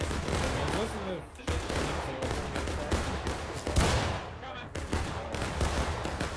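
Musket volleys crack repeatedly in the Civil War game War of Rights at Antietam, a dense ongoing fusillade of shots near and far, with a player talking over the gunfire.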